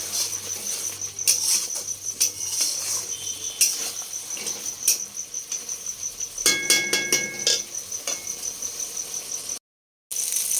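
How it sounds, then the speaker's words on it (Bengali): Potatoes are stirred in a pan as they brown, with a run of sharp clinks and scrapes from the utensil against the metal. A faint thin high whine sits behind the clatter. "যতক্ষণ না পর্যন্ত আলুটা ভালো করে কষা হয়ে যাচ্ছে ততক্ষণ আমি এটা নাড়তে থাকবো"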